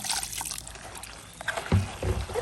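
Water is poured into a container in a short splashing, trickling stream, close by and without talk, while wild spider-plant greens are prepared for pickling.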